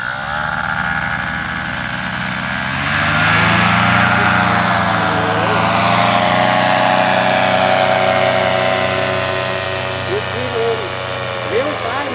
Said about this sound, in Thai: เร่งเครื่องเร่งเครื่อง